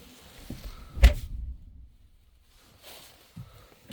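A Hyundai Equus VS380 car door swings shut with a single solid thunk, followed by quiet and a few faint mechanical clicks and rustles nearby.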